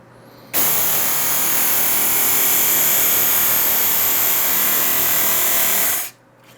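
A Work Sharp Mk2 belt sharpener with a medium belt, set for a pocket knife, whirs loud and steady for about five and a half seconds, starting abruptly and winding down at the end.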